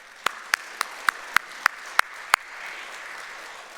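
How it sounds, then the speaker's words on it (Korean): A Korean church congregation claps together in unison, eight sharp, evenly spaced claps at a brisk beat, followed by a softer, scattered fade. "여러분 함께 박수하십시다."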